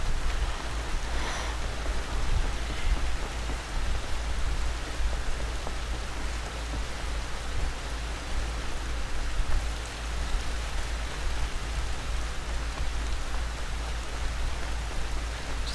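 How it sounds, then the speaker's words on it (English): Steady rainfall in the open-world video game Horizon Zero Dawn, a dense continuous hiss of drops on surfaces with a low rumble underneath, even and unbroken with no voices. "even the rain looks beautiful in this game."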